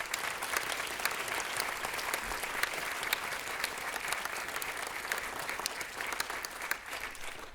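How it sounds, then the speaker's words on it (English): Warm, sustained applause from a large audience at the Oslo Freedom Forum, a dense, even roar of clapping with scattered sharp individual claps standing out, slightly distant and steady throughout. "So a round of applause for them."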